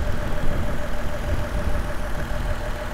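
A 2018 Lexus IS300 F-Sport with a 3.5 liter V6 idles under the open hood, a steady, smooth low hum heard close and without other sounds.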